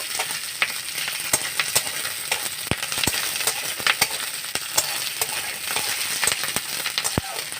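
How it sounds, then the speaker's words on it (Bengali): Sliced onions frying lightly in oil in a pan for egg chilli, a steady bright sizzle broken by sharp clicks and scrapes of stirring, close and continuous with no talking. "পেঁয়াজটা আমি একটু হালকা ভেজে নেব"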